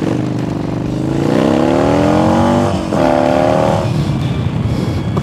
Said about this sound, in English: Oh, I love how much this bike rips. Even though it's only a 950, man, it still gets up.